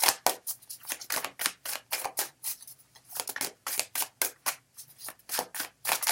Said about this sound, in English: I'm shuffling till one card falls out.